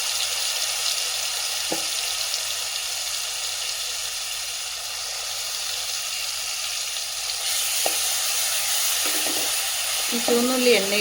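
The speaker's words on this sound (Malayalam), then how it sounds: "ഈ ചുവന്നുള്ളി എണ്ണയിൽ കിടന്നൊന്ന് വാടണം." Crushed shallots sizzle steadily in hot coconut oil in a pan for a Kerala-style masala cowpea dish, a continuous soft hiss with a few brief stirring scrapes near the end.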